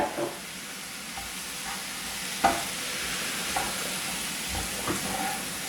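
Tomato coulis is stirred into a prawn sauce for spaghetti with prawns, a soft, steady sizzle running underneath with a few scraping stirs and one sharper knock from the pan.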